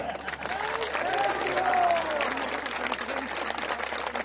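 A crowd at a Hindu rally claps steadily, the scattered patter of many hands running throughout, with a voice speaking over the applause early on.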